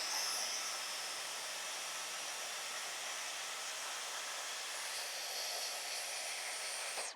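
A Dyson Airwrap hair styler blows on its cold shot setting, giving a steady, even airy hiss and whir that runs unbroken for several seconds before cutting off. It is fairly faint, with no voice over it.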